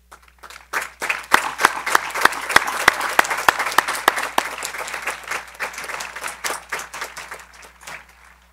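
Graduation ceremony audience at a high school commencement applauds the faculty, a burst of clapping swelling to a loud peak with a few sharp individual claps, then fading away over several seconds.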